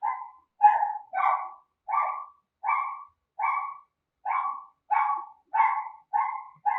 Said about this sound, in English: sorry about that dog, by the way. I don't know what dog that is.